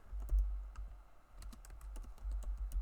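Quiet, steady keystrokes on a computer keyboard while entering HTML code, a run of soft clicks and taps close to the microphone with no voices.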